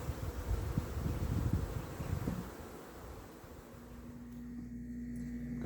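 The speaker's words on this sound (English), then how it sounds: "There's just so many bees now." Honey bees swarm around hives and a six-frame nuc box, a dense, steady buzzing hum that stays close and fairly loud throughout before easing slightly toward the end.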